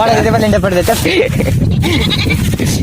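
A goat bleats several times while being herded by hand on a first day of goat grazing, wavering calls close by and mixed under steady talk and laughter from people nearby.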